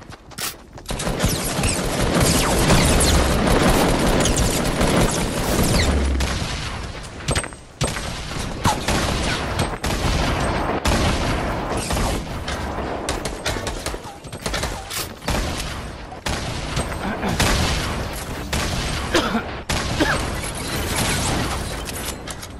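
Video game firefight with grenade explosions and sustained gunfire, loud and dense bursts of automatic shots and blasts packed together almost without pause.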